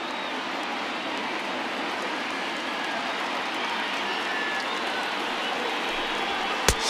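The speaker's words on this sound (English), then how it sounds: "Now this small but vocal crowd come to their feet." Small but vocal crowd cheering and applauding as fans rise in a Miami Marlins home baseball game in MLB The Show 20 on PS4, a steady dense wash of noise ending in a sharp click.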